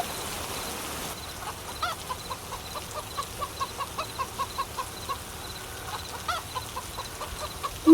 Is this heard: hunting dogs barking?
no